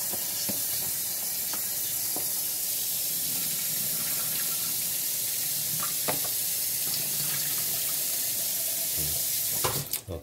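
Spanish needle herb being rinsed in water in a kitchen, a steady hissing flow of running water with faint splashes and small knocks that ends abruptly.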